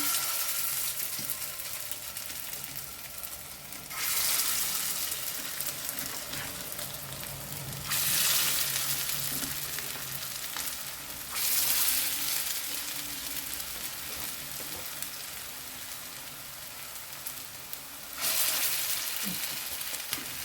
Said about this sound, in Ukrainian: Тут 5 штук якраз обсмажувати буду.